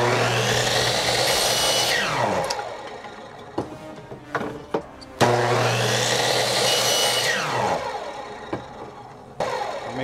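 A power tool cuts a strip into quarter-inch sections for a helmet mold, whirring loudly as it spins up and winds down in two long runs, with sharp clicks and short bursts of cutting between them.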